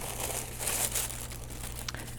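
Black and gold tissue paper, printed with flying keys and lightning bolts, crinkles and rustles steadily as it is unwrapped, close and fairly soft, with a sharper crackle near the end.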